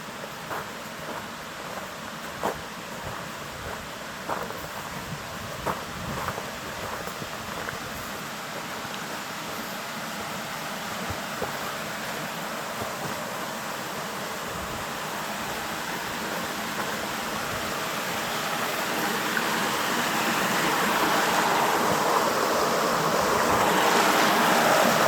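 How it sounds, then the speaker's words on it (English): A forest stream at Eel Weir Brook runs steadily toward a waterfall, a broad, constant rush of flowing water that swells slightly louder near the end, with faint knocks early on. "You can hear the stream."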